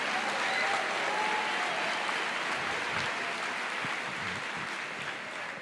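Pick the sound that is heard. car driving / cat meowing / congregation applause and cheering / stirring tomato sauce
congregation applause and cheering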